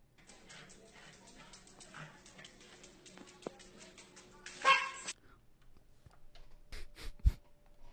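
Dog barks and whimpers from a meme play faintly over a low background bed, with a louder yip near the middle and a few sharp barks toward the end.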